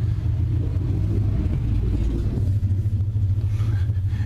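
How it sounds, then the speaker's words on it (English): A loud vehicle drives past outdoors, a heavy low rumble of engine and road noise that holds steady throughout, fairly close. "somebody loud drives by"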